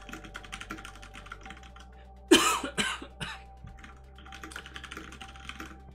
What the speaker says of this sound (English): I don't know why I've got a cough today.